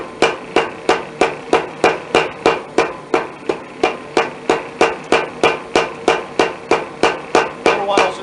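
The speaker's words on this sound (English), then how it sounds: "It's been a while since I've used this hammer." Steady, evenly spaced hammer blows ring out on hot metal as a hook is forged by hand, some twenty sharp, loud strikes in a regular rhythm with no talk.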